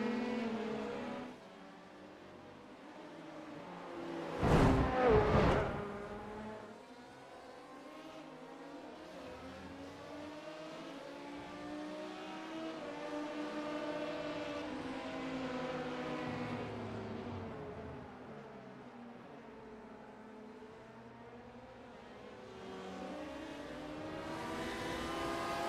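Racing cars run an endurance race at Twin Ring Motegi in a sim racing series, their engines droning and revving steadily at moderate volume, with one loud sharp impact early on.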